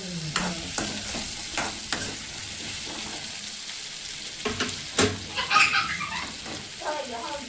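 Okra frying in plenty of oil in a kadai, with sharp clatters of stirring over a sizzling hiss and a voice talking in the background.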